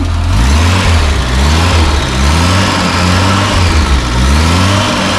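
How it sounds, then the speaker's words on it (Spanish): A SEAT 600 D four-cylinder car engine revs loudly and close up, its pitch climbing and falling through several repeated throttle blips over steady running, with no voices. "ya suena a 4 cilindros, esto ya suena bien"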